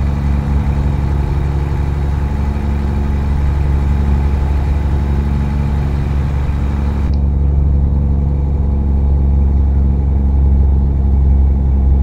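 An American Truck Simulator truck engine drones steadily from inside the cab at night, a loud, continuous low rumble with an even idle-like tone; the higher hiss drops away partway through while the engine keeps running.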